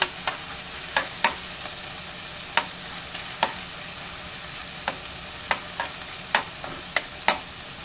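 Garlic sautéing in a pan for a chicken broccoli dish: a steady, soft sizzle runs throughout, broken by sharp clicks of a utensil against the pan at irregular intervals.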